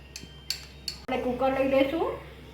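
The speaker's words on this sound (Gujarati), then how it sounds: "હવે આપણે કુકર લઈ લઈશું." A metal pressure cooker is handled in a home kitchen, with a few light clanks followed by a louder metallic clatter and scrape as it is picked up and set down, close by.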